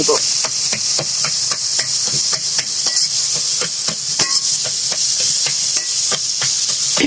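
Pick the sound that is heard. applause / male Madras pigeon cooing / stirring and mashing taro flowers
stirring and mashing taro flowers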